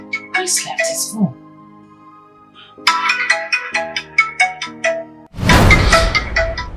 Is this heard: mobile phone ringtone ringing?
yes